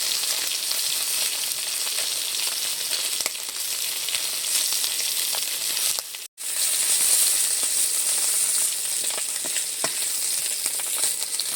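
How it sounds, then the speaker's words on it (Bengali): Pond fish fry in hot oil in a wok, giving a dense, continuous crackling sizzle that stays loud and even throughout, with one brief dropout and no voices. "মাছগুলো খুব সুন্দর লাল করে ভেজে নিয়েছি সব মাছ ভাজা হয়ে গেছে"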